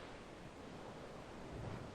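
Wind and sea waves from the Breath of Fire III video game form a faint, steady broadband rush, swelling slightly near the end like surf on the open sea.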